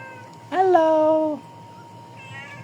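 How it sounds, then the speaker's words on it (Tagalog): A pet cat gives one clear, drawn-out meow up close, followed by a fainter second mew, with a person speaking briefly and quiet room noise around it. "Mabait yung mga pusa sa akin kasi pinapakain natin."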